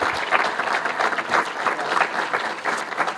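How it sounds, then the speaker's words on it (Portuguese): Audience applause at a municipal election campaign event in Ferreira do Zêzere, Portugal, where a mayor launches his re-election bid: a dense, steady wash of many hands clapping, fairly close and sustained throughout, with no talk over it. "queria pedir uma salva de palmas também aqui ao professor José Casanova pela elevação"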